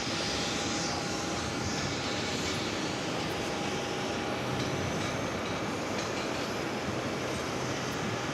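A jet airliner of Etihad taxies toward a gate at JFK airport in New York, its engines giving a steady, loud broadband roar that holds evenly throughout, with a faint thin whine running above it.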